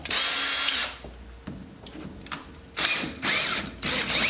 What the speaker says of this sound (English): a battery drill